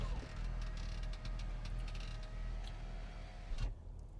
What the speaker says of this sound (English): Let me close the windows for noise sake.